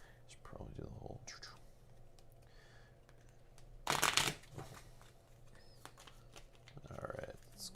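Cards shuffled during a tabletop board game session: one loud crisp riffle burst in the middle, with soft voices murmuring and whispering before and after.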